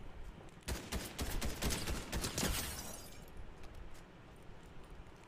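Gunfire in the video game Fortnite: dense, rapid bursts of shots that stay loud for a couple of seconds, then thin out into scattered, fading reports.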